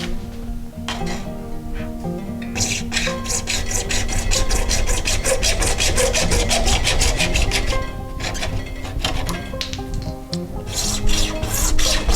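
A PVC pipe for a water softener backwash air gap being cut by hand, a steady rasping, sawing scrape that runs continuously for about twelve seconds, close and loud, with no talking.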